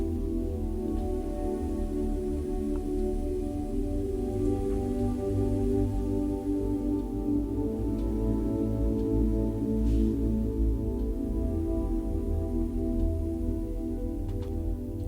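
Subtle, quiet rustling-leaves sample from the Audivor Terrastrate library, a steady dense texture of soft crackles and flutters over a low, continuous bed, with no talking.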